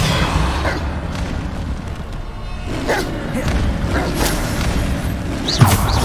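Bombarda blasting spell explosions in the video game Hogwarts Legacy, several deep booming bursts that land one after another over steady, dense in-game combat ambience.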